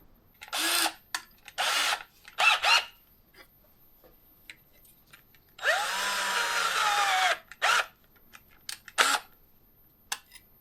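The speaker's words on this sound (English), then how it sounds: "I'm going to have to drill out this hole just to be able to receive the cable" Power drill boring out a hole in plastic for a Subaru hatch door release cable, in several short bursts, one longer loaded run near the middle, close and loud with quiet gaps between.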